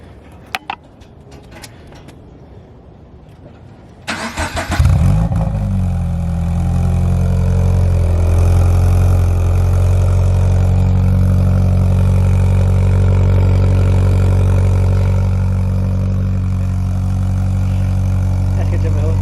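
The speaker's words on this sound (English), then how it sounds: "Alright, exhaust is installed. Cold start. Let's get that cold start up." Subaru BRZ fitted with a Spec D exhaust cold-starting after a brief crank, then settling into a loud, steady, raised idle close by. Quiet shuffling comes before the start, and a voice briefly speaks over the engine.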